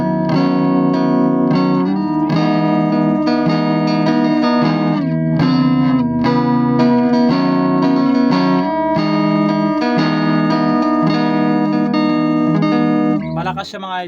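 An electric guitar plays loudly through a guitar amplifier turned to full volume, with a sustained, distorted run of chords and single notes that continues without a break and ends in a quick scrape of strings.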